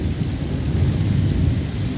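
Heavy rain pours down during a storm in a yard, a dense, steady, loud roar of water that stays constant throughout with no voices.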